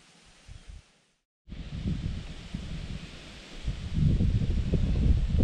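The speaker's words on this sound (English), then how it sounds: "Still getting windier." Gusty wind buffets the open outdoors during a bow hunt, a brief rumble dropping to a moment of silence, then steady broadband roaring and rustling that swells stronger toward the end, close and loud with no voices.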